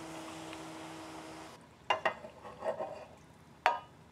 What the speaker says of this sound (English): And give this a good stir.